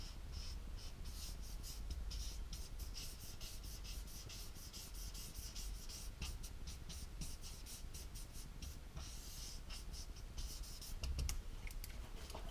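Winsor & Newton pigment markers used like brushes, scratching and rubbing on paper to blend blues, yellows and reds, a continuous close dry rasp of marker tips with quick repeated strokes and no talking.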